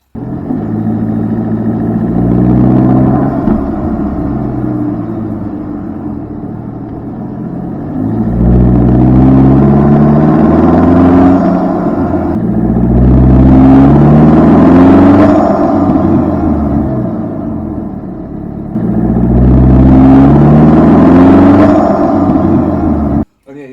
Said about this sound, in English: we've increased the sound level of the turbo dramatically